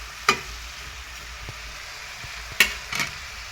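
Ginger-garlic paste is stirred in a hot pan for an Assamese fish dish: a low sizzle runs steadily beneath a few sharp scrapes of the spoon, quiet and close, with no talking.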